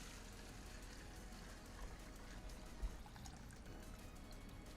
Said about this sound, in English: let's see what happens when I pour this into this can